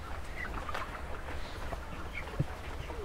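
Broiler chickens in a poultry shed, 29 days old, give a steady low murmur of soft clucks and scattered calls over a constant rumble, with one brief louder note near the end.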